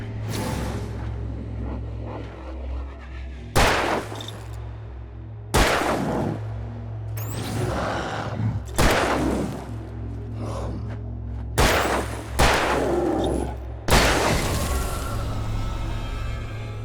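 Gunshots in Alan Wake Remastered: six loud, sharp single reports spaced a couple of seconds apart over a low, droning ambient hum, with no talking.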